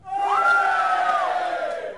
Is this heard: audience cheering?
yes